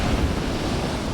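Big storm waves roar at Cape Disappointment, a continuous heavy wash of surf with strong wind buffeting the microphone, loud and close with no voices.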